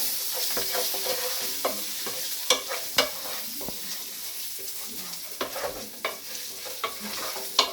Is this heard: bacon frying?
yes